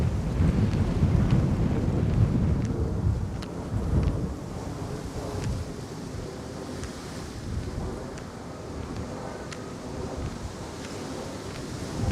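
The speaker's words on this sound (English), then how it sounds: "It's going windy." Strong gusts buffet the microphone in low rumbling bursts at Chelsea Market, New York City, loud and close, easing slightly but never stopping.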